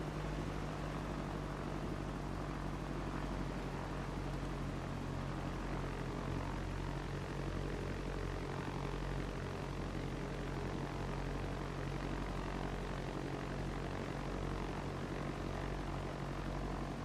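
Propeller airplane engine droning steadily in flight over Hells Canyon, a constant loud cabin-level hum with no breaks for seventeen seconds.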